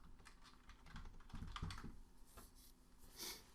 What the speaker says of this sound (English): here you can type in the URL that you want to check out